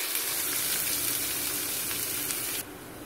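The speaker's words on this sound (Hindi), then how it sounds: "अब हम इसमें प्याज ऐड करेंगे।" Onions hit hot mustard oil with cumin seeds in a pan, producing a loud, dense, steady sizzle that drops off abruptly near the end.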